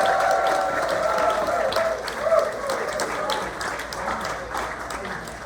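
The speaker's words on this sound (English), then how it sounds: "the next round of applause has to go to our entire culinary team." Audience applause for a culinary team at a 15-year celebration, a steady broad clatter of many hands holding level throughout, with a brief tonal voice or whistle early on and murmuring talk mixed under it.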